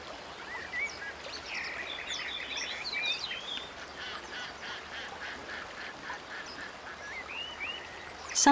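Mallards, swans and coots on the Loire river, with repeated duck quacks and honking calls scattered over a faint background of flowing water, moderately distant and without talk.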